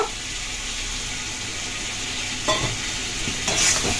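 Spice masala with raw jackfruit fries in a pan with a steady broadband sizzle, while a spoon stirs and scrapes through it in a few louder strokes near the end.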